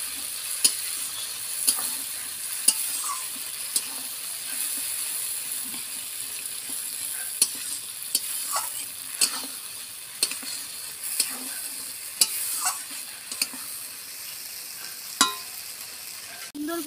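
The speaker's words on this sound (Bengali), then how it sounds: "এবার আমি মশলাটা দিয়ে একটু কষিয়ে নেব।" Spice paste stir-fried in oil in a pan for a rohu fish curry with pointed gourd, a continuous close sizzle broken by sharp clicks and scrapes of a spatula against the pan at irregular intervals, no voices.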